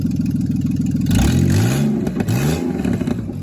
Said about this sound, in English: Give her a rev.